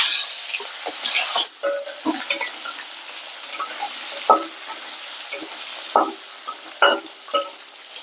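Jackfruit seeds fry in a pan for a fish curry, with black cumin and a dried chilli already in the hot oil over low gas. A steady close sizzle carries through, broken by scattered stirring clicks and scrapes.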